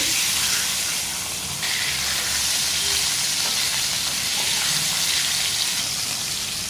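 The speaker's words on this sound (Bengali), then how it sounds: "মাছগুলো একটু লালচে করে ভেজে নিয়েছি" Pieces of rohu fish frying in hot mustard oil, a loud, steady sizzling hiss that carries on unbroken, close up, with no talking.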